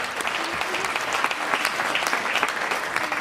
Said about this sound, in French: On l'applaudit quand même très fort.